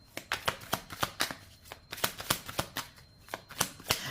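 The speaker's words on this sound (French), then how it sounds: "on va poser les 11 cartes" A deck of oracle cards is shuffled and dealt in quick, even slaps, roughly four per second, each one close and crisp with short gaps between them.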